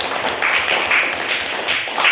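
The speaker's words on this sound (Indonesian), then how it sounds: "kita beri tepuk tangan kepada kelompok 1" Classroom audience applauding a student group after its presentation of a pencil case made from recycled drinking straws; steady dense clapping runs through the whole moment at even loudness.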